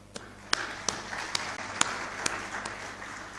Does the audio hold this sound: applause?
yes